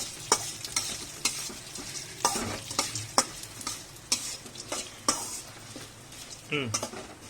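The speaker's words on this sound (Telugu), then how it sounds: "వీటిని మంచిగా దూరగా అయ్యేటట్టు వేయించుకోవాలి." Coriander seeds are dry-roasted in a pan and stirred with a utensil, giving a rhythmic series of scrapes, rattles and light metallic clinks over a faint background hiss.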